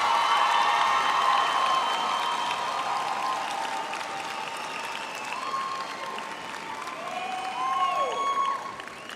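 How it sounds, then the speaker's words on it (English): A graduation audience in a large hall applauds, a dense, steady wash of clapping that fades slightly and then swells again before stopping. "give a round of applause to their families, friends, and everyone else who supported them."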